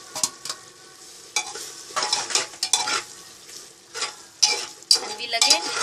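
Tomatoes cook with spices in a pan for a mutton curry with potato and papaya, soft frying hiss broken by repeated bursts of spoon stirring and scraping against the pan, close and without speech.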